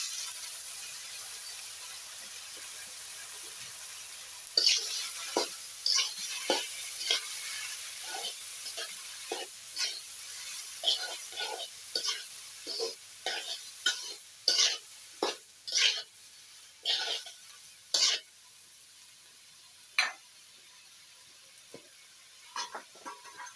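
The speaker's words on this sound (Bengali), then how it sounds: "এবার ভাজা হয়েছে থোর দিয়ে দিলাম" Banana stem frying in a pan on a village kitchen stove: a faint steady sizzle with repeated scraping stirs and clacks of a spatula, growing more frequent and louder partway through.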